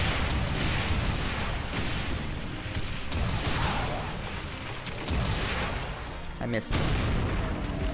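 Rocket explosions from the Doom map set Sunlust, video game, roar as a dense barrage of loud overlapping booms and rumbling blasts, with someone briefly speaking over the chaos.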